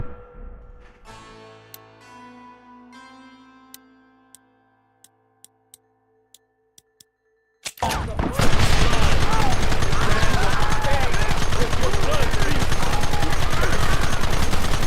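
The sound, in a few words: gunfire in video game Red Dead Redemption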